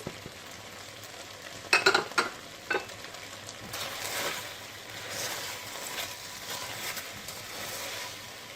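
Fresh broad beans sauté in a pan with black pepper, salt and spices, giving a few sharp clatters of stirring early on, then a soft, steady sizzle throughout, with no talking.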